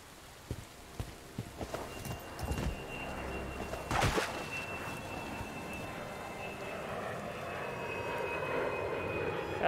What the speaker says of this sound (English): an airliner engulfed in flames just passed overhead